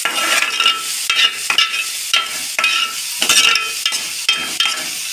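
Onions sizzle loudly in oil in a kadai while a spoon stirs them, with a continuous close frying hiss broken by repeated scraping strokes and the occasional metallic clink against the pan.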